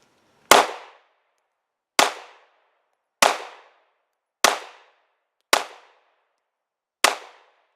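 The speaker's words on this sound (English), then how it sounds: "Glock 43." Six sharp, loud Glock 43 pistol shots ring out one at a time, evenly spaced about a second apart, each with a quick decaying tail and silence between.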